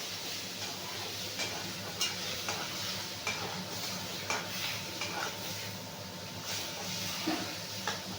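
Pigeon meat frying in a pan over high gas heat, a steady sizzle broken by regular scraping and clinking strokes of a stirring spoon about once per second, close and moderately loud.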